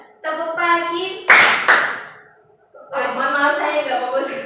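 In a classroom clap game, a group of students claps together in one short burst, set between stretches of a voice speaking close to the microphone.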